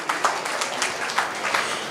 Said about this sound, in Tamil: நாம் அனைவரும் இணைந்து கரகோஷத்தை எழுப்பி அவர்களுக்கு வாழ்த்து